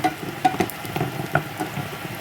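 Fenugreek seeds and spices sautéing in a pan, a steady close sizzle broken by soft scraping stirs and small pops, with no talking.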